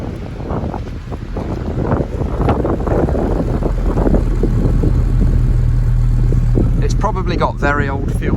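A Jaguar XJS 3.6 engine idles with a steady low rumble under wind buffeting on the microphone, staying even throughout, with a brief burst of higher-pitched noise near the end.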